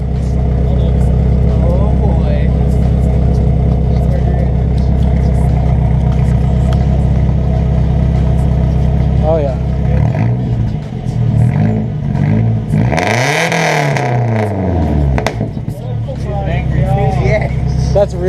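Nissan S14 with a new straight-pipe exhaust and no muffler, a loud, close engine droning steadily and then revving up and down in several sharp swells, with people talking over it.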